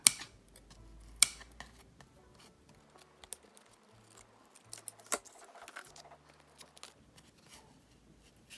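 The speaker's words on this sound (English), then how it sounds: "So I'll just take some of those threads away, my scissors." Scissors snip away loose threads on a handmade craft number tag, giving a few quiet, sharp clicks spaced out over a soft, low background.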